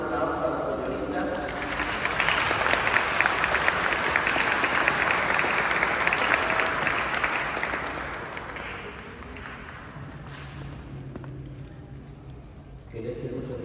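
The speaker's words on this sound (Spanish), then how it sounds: "Les damos un aplauso a las señoritas." Sustained clapping from guests for the young ladies at a quinceañera church celebration, swelling in the middle and then fading, with voices audible around it.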